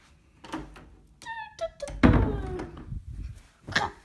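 Door being tried and found locked in a horror video game: a series of knocks and thuds, a short meow-like squeak, then a heavy slam with a lingering rumble and a final muffled thump.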